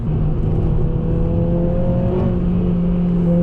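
A 2007 Honda Civic Type-R accelerating: a loud, steady engine drone with strong low harmonics that climb slightly, heard close up throughout with no talking.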